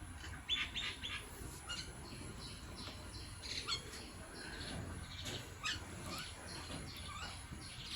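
Birds chirp and tweet outdoors at a moderate distance, with scattered short calls over soft background noise and no speech.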